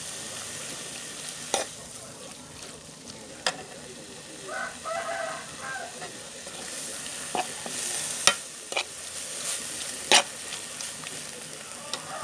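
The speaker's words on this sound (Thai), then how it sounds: "รวนให้มันสุก" Pork stir-fried in a pan for a Thai-style cooked pork and mango dish, with steady frying hiss broken by sharp spatula scrapes and clacks against the pan, close up and with no talk.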